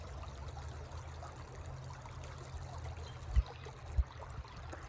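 Soft, continuous trickling of a flowing stream with a low rumble underneath and a couple of faint thumps.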